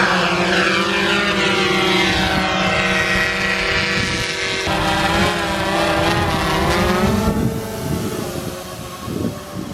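A GoPro Karma drone, a recalled model, flying with a steady high-pitched propeller whine and shifting harmonic tones, loud and continuous throughout, with no talk.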